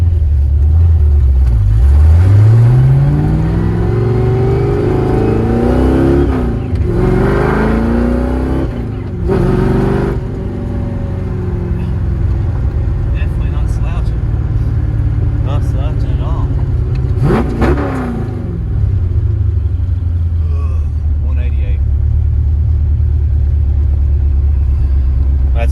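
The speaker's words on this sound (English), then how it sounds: "Seems like it always wants to die as soon as I let off the throttle." A car engine that stalls easily off the throttle revs up in rising sweeps during a test drive, then drops back to a rough, rumbling idle. The sound is loud and close throughout.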